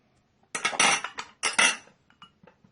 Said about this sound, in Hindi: अब इसको आप ब्रश की मदद से अच्छी तरह पहले इसको मिक्स कर लें।